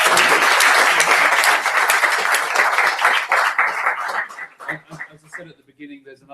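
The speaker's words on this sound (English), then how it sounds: "Let's give Vitalik and Preston a big round of applause." A conference audience in London gives sustained, dense applause that starts loud and then thins out, ending in scattered claps and murmuring as people settle.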